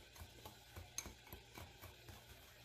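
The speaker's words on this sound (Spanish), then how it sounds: "Aquí vamos a mezclar bien." A utensil quietly stirs keto pumpkin atole thickened with xanthan gum, with soft, regular taps and scrapes against the container repeating every fraction of a second, and a louder clink at the very end.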